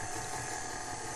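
A kitchen stand mixer churns peanut butter cookie dough after milk and vanilla are added, a brief, faint, steady whirring and clicking of the motor and beater turning.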